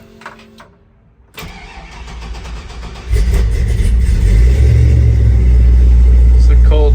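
An LS-swapped 1964 Chevrolet C10 restomod with fuel injection cranks over from cold, catching after a brief starter whir and settling into a loud, deep, steady rumble close by, with a person speaking briefly before it fires.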